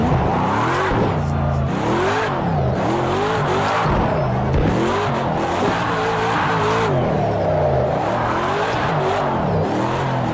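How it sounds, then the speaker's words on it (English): Chelsea DeNofa's RTR Ford Mustang drift car in Project Cars 2 drifts with a loud engine revving up and down in jumpy surges, tires squealing and skidding throughout. "this is like the most hideous drifting I've ever done"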